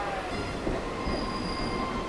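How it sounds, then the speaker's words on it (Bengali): Local train wheels squeal steadily under a constant rolling rumble as it departs a station, close and loud, with a high metallic whine running through the whole stretch. "জগপুর স্টেশন থেকে আমাদের ট্রেন ছেড়ে দিয়েছে"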